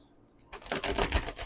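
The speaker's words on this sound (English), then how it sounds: "Man, this deck does not shuffle goodly. Or maybe I just suck at shuffling." A tarot card deck being shuffled by hand, a close, dense burst of rapid papery riffling and flicking that starts abruptly and continues loudly to the end.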